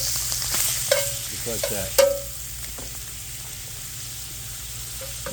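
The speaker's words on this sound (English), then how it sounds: "we're going to put in some butter. Whole butter. We're going to let this melt and get nice and brown." Whole butter melting and sizzling in a cast iron pan, a low steady hiss with a couple of sharp utensil clinks near the start, heard close under a brief spoken remark.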